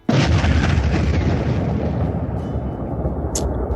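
Loud, continuous rumbling blasts of explosions in a tabletop role-playing game session, a dense roar that fills the whole stretch and fades slightly toward the end.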